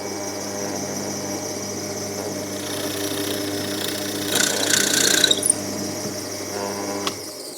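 A countersink cutter drilling into wood, the machine's steady motor hum building into a brief harsh cutting burst partway through, then settling back to a hum.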